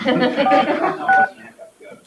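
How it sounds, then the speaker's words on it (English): Telephone keypad tones entering a conference-call code for a county supervisors meeting, a few short beeps heard under a recorded voice prompt that dominates the sound. "Please enter your participant or moderator code followed by the pound key."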